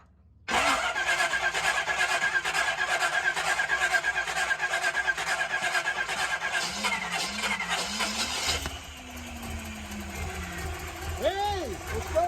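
A 1937 Buick Century engine in a shop catches and fires up abruptly, then runs with a rough, busy mechanical clatter before settling to a lower idle, with people talking and exclaiming over it.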